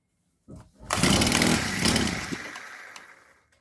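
A Honda GX25 four-stroke brushcutter engine, in need of a carburetor mixture adjustment, sputters briefly, then catches and runs with a loud buzzing drone that slowly fades as it winds down.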